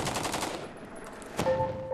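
Rifle fire with tracer rounds aimed at a gasoline-filled bucket, a quick burst of rapid cracks followed by a single sharper report, fairly faint, with tonal sounds lingering afterward.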